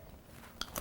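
Crunchy moong dal discs bitten up close in a quiet room, with two or three crisp, brief crunches near the end.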